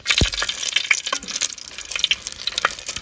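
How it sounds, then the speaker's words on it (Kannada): Six Byadagi chillies frying in a little oil, crackling and sizzling in uneven bursts with a few stirring clatters, close and fairly loud. "ಇದನ್ನು ಒಂದು ಸ್ವಲ್ಪ ಎಣ್ಣೆಯಲ್ಲಿ ಫ್ರೈ ಮಾಡ್ಕೊಳ್ಳುವ ಆಯಿತಾ. 6 ಬ್ಯಾಡಗಿ ಮೆಣಸನ್ನ ಹಾಕ್ಕೊಳ್ತಾ ಇದ್ದೀನಿ."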